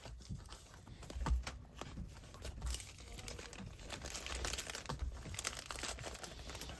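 Items for eBay, Etsy and Mercari orders being packed into a small plastic bag, with continuous close, faint crinkling and rustling and a few soft thumps of handling.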